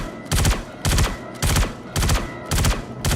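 Gunfire from a first-person shooter game fired through a night vision scope, five evenly spaced loud bursts of rapid shots with brief gaps between them, no talking.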